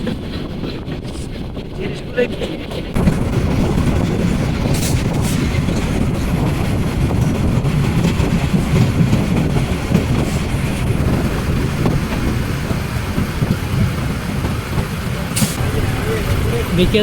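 The metre-gauge Mohanogor Express at Kasba railway station gives a loud, steady, close rumble of rolling rail cars that grows after a few seconds and continues throughout, with voices heard over it.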